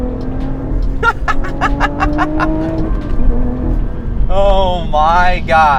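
A Lotus Evora 400 with a Toyota powertrain revs hard on a road, the engine note climbing and falling in repeated surges, loud and close, while people inside exclaim and laugh over it.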